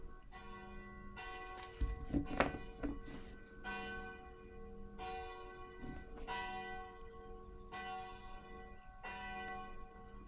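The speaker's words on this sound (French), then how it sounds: "Je vais laisser les cloches sonner un instant." Church bells ring out in slow, regular strokes, each tone hanging and fading before the next, with a brief louder rustle near the start and no talking.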